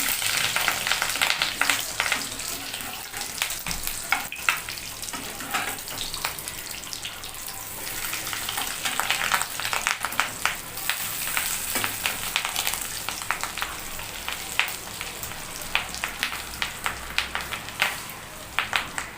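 Egg fritters sizzle steadily in a pan over a low gas flame, a continuous crackling fry with small pops and occasional louder spatters, close by and with no talking.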